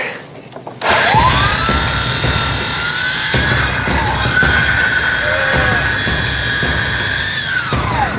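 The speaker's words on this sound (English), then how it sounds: "working with power tools" Power tools whine steadily and loudly through maintenance work 140 feet up on the Mean Streak wooden roller coaster at Cedar Point, the high-pitched drilling tone running continuously and close against gusty wind.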